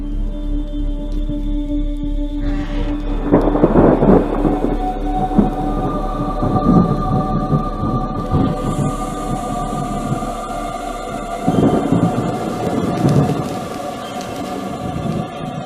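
A thunderstorm with rain outside a house at night, heard as a steady rain wash with low rumbling swells of thunder that build and fade twice, loud and close, with no voices.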